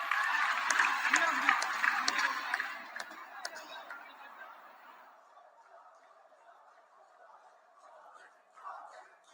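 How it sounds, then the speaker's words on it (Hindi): Applause and crowd noise rise from a large audience at an outdoor political rally in Darrang, Assam, where a prime minister is launching projects. The clapping starts loud and dense, then fades into scattered claps and murmuring chatter. "हो जाए ताली आज आपके नाम पर"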